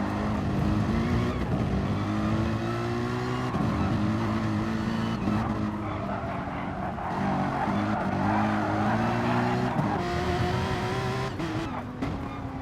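Several race cars from a sim racing endurance round at Catalunya run close together through the final corners, engines droning steadily with shifting pitch and occasional tyre squeal, continuous and fairly loud throughout.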